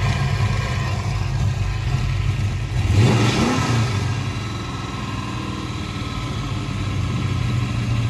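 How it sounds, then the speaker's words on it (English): A vehicle engine idles, then surges in one brief rev near the middle as the throttle is hit before settling back to a steady idle. "Hit the throttle one time."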